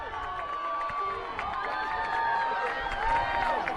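A men's college soccer championship crowd of Evangel supporters cheers and shouts from the stands, a broad wash of voices and whistles that swells slightly toward the end, heard at a distance.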